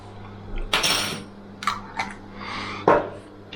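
Raw prawns tipped into a hot preheated pan with harissa paste, landing with a few distinct clattering, clinking impacts against the metal pan spread over a few seconds, fairly close and moderately loud.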